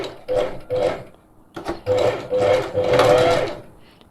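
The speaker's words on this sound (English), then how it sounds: "I know that I'm sewing onto the elastic." A sewing machine stitches onto elastic during a clothing alteration, running in short close bursts and then a longer continuous run, with a steady mechanical whirr and needle rattle.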